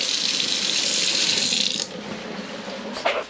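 Cold and hot taps turned on after a long winter, water gushing steadily and loudly into a sink or tank, then the flow drops to a quieter stream with a brief splashy burst near the end.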